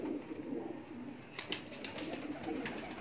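Kamangar pigeons cooing from a breeding loft, a soft continuous murmur of calls with brief brighter bursts near the middle and end.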